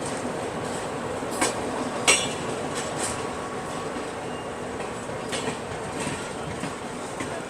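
A Rajdhani Express running at speed and overtaking another train, a continuous rumbling rail roar with scattered clicks and knocks from the wheels, heard steadily from on board with no talk.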